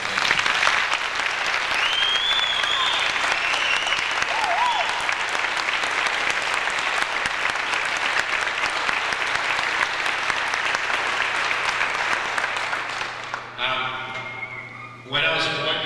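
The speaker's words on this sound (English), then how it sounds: "I'd like to give them the biggest round of applause right now" Sustained audience applause and crowd noise at a 1995 high school boys' basketball game in Pekin, Illinois, honoring the school singers, a dense steady roar of clapping for about thirteen seconds before a voice begins speaking over the fading crowd.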